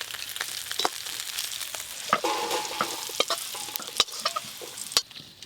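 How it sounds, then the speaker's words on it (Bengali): Small shrimp, already well fried, are tipped out of a pan. A steady oily sizzle runs under scattered sharp scraping clicks and clatters of the pan and spatula, with no talking. "কুচো চিংড়ি মাছগুলো বেশ ভালো করে ভাজা হয়ে গেছে,"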